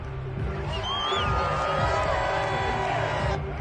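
Home crowd in the video game Madden 22 roars as a sustained, dense stadium cheer with whoops rising over it, steady and loud throughout, under a commentator's voice.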